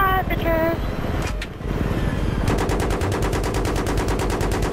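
Rapid automatic gunfire in the video game Battlefield 3 hammers close and loud in a fast even rhythm during a co-op mission, laid over engine rumble and game effects while someone talks.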